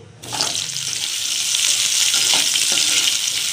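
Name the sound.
cauliflower frying in mustard oil in a wok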